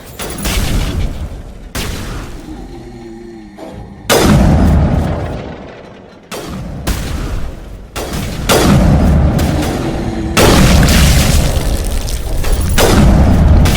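Gunfire and explosions in the video game Mass Effect: heavy booms and sharp shots come one after another, loud and dense, then merge into a sustained roar of blasts toward the end.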